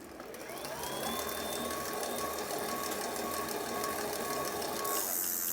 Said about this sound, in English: we will be able to hear the motor spool up